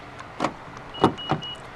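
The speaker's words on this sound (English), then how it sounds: "3 beeps does show that the car is locked" Three short electronic confirmation beeps from a 2014 Honda City 1.5 V as its keyless system locks the doors. They are evenly spaced, moderately loud and heard alone, with no talking.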